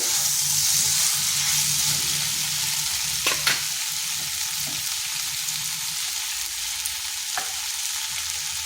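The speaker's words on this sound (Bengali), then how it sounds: "এটাকে কিন্তু এইভাবে কষে কষেই রান্না করতে হবে, তাতে টেস্টটা বেড়ে যাবে।" Pumpkin is stirred and fried in a pan for a vegetarian curry, with a constant close sizzle and a few sharp scrapes and taps of a spoon against the pan, and no talking.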